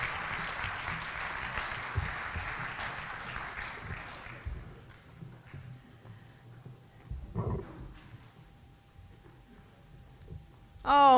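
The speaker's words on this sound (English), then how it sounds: "Let's give them another round of applause." An audience applauds at a university athletics Hall of Fame induction and alumni awards ceremony, with dense clapping for about four seconds that then thins out and fades into a quieter room.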